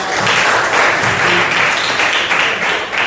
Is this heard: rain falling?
no